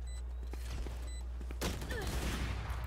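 Rapid bursts of gunfire from a competitive video game match, a dense volley starting partway through and continuing loudly to the end, with faint earlier shots beforehand.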